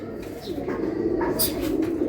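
Giribaz pigeons giving soft, low cooing calls, close and fairly quiet, a few repeated throaty coos over faint room background.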